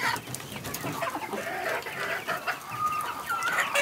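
Chickens in a coop on a rooftop, clucking continuously and busily at close range, with several overlapping calls and no talk.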